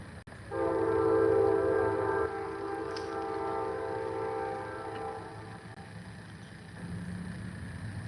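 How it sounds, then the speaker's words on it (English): A train passes at five o'clock, its horn sounding a long, loud sustained blast that fades after a couple of seconds into the low continuous rumble of rail cars rolling by. "here comes the train. The 5 o'clock train."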